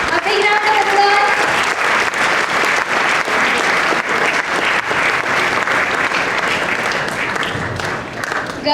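An audience gives a big, continuous round of applause for a student placed at a medical college, loud and close, with a brief voice heard over it at the start.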